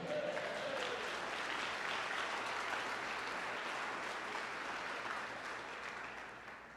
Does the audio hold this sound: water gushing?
no